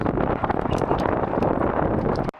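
Loud, rough wind buffeting the microphone, a continuous rumbling roar that cuts off abruptly near the end.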